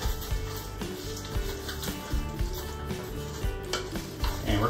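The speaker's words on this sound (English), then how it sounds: "So let's get all this mixed in together." A spoon stirs sloppy joe mixture in a cooking pan, soft scraping and knocking against the metal in an uneven rhythm, with a gentle background sizzle throughout.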